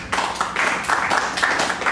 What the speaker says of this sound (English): Give her a nice round of applause.